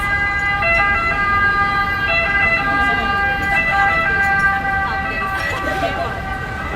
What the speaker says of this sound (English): The ever-present sound of the sirens.